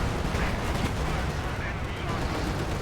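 Tank shell striking and penetrating a Soviet KV-1 heavy tank during a Company of Heroes 2 battle, a dense wash of gunfire and artillery rumble throughout, with a commentator talking over the steady din.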